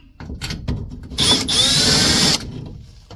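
A power drill unscrews a metal box on a Dixie Narco vending machine, with short whirring bursts followed by a longer sustained run, close and loud, amid some handling clatter.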